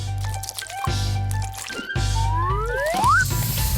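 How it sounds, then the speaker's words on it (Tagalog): Pancake batter poured into a frying pan, heard as close, loud wet squishing and sizzling under a low steady hum, with a few rising whistle-like tones. "Dahan-dahang ibuhos ang batter ng pancakes sa kawali"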